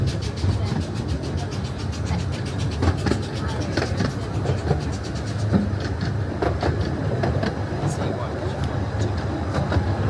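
A train on the Ratty railway climbs the steepest section up Holland Howe, with a steady rumble and repeated rail clicks under a continuous running drone. People talk over it.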